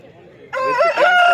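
A Punganur rooster at a village hen market gives one loud, close crow that rises and holds after a short, quieter lead-in of clucking.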